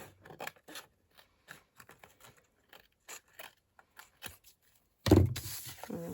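A blade snips and cuts through paper for a handmade window envelope tag in a run of short, close, separate crisp clicks and scrapes, then a louder rustle of handled paper at the end.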